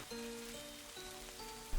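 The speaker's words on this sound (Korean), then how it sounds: "밖엔 비가 오고" Steady rain falls outside, a continuous close hiss and patter with a faint sustained tonal drone beneath it and a brief low thump at the end.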